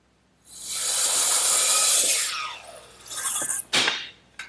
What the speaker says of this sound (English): And now just to tighten down this wedge.